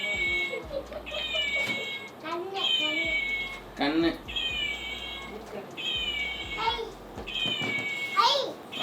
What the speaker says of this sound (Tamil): காட்டு பூனை மியாவ் மியாவுங்க